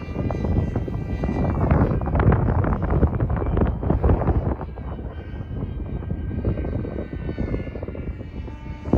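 An FT Flerken foam RC plane on its maiden flight, running a 4S battery, roars overhead as a loud, steady propeller and motor whine mixed with wind buffeting, swelling and easing slightly as it passes.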